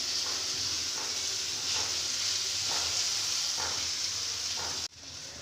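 Steady, loud sizzle of chicken frying in hot oil in a pan, with occasional soft scraping from stirring, then an abrupt drop near the end.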